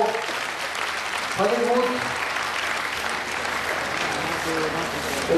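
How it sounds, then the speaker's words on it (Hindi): An audience at a BJYM state convention applauds in a steady, dense wash of clapping, with a voice speaking over it near the start. "आप सब ताली बजाकर"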